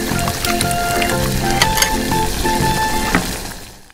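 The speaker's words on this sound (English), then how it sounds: "Finally, add the clam. Stir everything together." Clams sizzle and crackle loudly in a hot pan as they are stir-fried with galangal, chili, lemongrass, lemon leaves and palm sugar, with steady frying hiss and scattered scraping clicks from stirring, fading slightly at the end.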